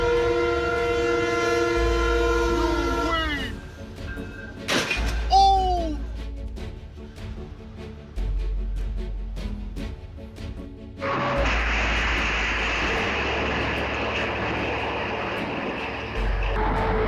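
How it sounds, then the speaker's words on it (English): A train horn blares loudly and close beside a cafe, followed by the heavy roar and rumble of the train rushing past, filling the second half. "suddenly a train roars by so close you could almost touch it"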